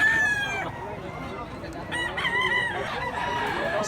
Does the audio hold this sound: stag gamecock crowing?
yes